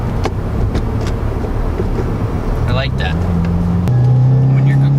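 A 2017 Subaru WRX Limited drones steadily from inside the cabin, with the engine note stepping up as the transmission shifts through gears; a voice speaks briefly over it.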